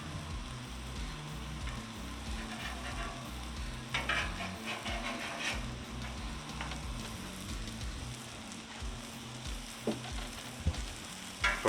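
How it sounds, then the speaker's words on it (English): Eggs frying in egg rings in a pan for homemade McMuffins, a continuous low crackling sizzle with scattered scrapes and taps as a spatula works under them to flip, moderately quiet and without speech. "Alright, the eggs are ready to flip, so we're going to try and do this without destroying them too much."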